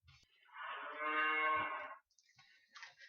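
A human voice imitates a cow, drawing out one long, loud, nasal moo that swells and then fades, followed by a few faint scraps of sound.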